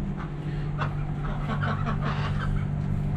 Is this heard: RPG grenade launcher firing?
no